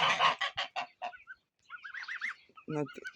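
A domestic goose sitting on its nest in a poultry yard during 40-degree heat gives a run of harsh, close honks, then a pause, then a second burst of nasal, harmonic calls.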